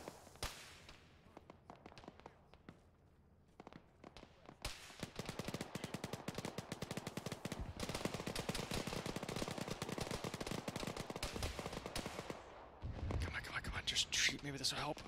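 Video game gunfire in an Arma military mission, sustained bursts of automatic and rapid shots that grow dense and continuous, loud and close, with someone talking at times.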